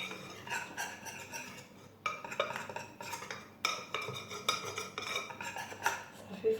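A hand whisk scrapes and clinks against a bowl while mixing brioche dough, a steady run of rhythmic metallic stirring strokes, close and moderately loud, with brief pauses between bursts.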